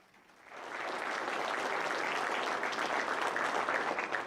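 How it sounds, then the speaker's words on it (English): Audience applause at an annual design awards ceremony for transportation projects, rising quickly after a quiet start into steady, sustained clapping from a sizable crowd, fairly distant and even. "Would you please join me in a round of applause thanking this year's judges?"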